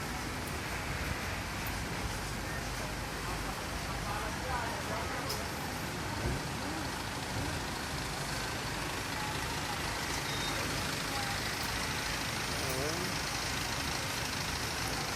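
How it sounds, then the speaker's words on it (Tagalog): Heavy traffic crawls past a market in Baguio, with truck and car engines idling and rumbling together in a dense, continuous wash of nearby street noise and occasional faint beeps. "Sobrang traffic dito sa Baguio talaga."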